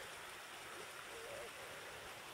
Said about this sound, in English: It's a light murmur of the water